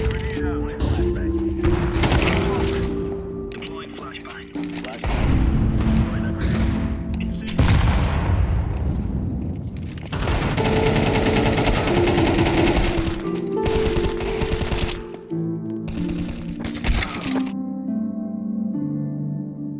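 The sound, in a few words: gunfire spray in a shooter video game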